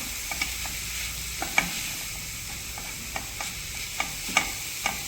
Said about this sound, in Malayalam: നമുക്ക് പയറിന് ഉപ്പിട്ട് കൊടുത്തു ഇങ്ങനെ ഇളക്കി കൊടുക്കാം